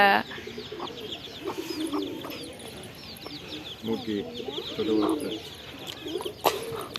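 Several pigeons in a village coo in overlapping low, rolling calls, steady and moderately near, with faint clucks and occasional sharp noises in the background.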